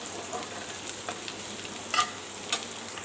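Chopped garlic frying in oil in a pan until lightly browned, a soft continuous sizzle with a few sharper crackles and spatula clicks, close and without speech.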